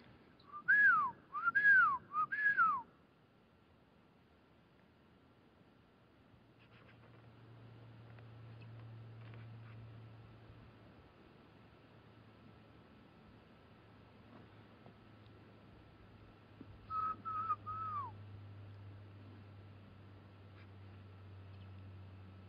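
A person whistles short rising-falling calls imitating deer, three quick whistles at the start and two more later, between them a low rumble of wind or water outdoors.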